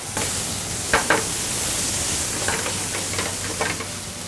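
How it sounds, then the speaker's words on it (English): A biscuit sizzling on a heavily buttered grill: a loud, steady frying hiss with a few short scraping bursts from stirring or turning, close by and without speech. "You're not the first person to grill a biscuit, but I sure do like the way they come out."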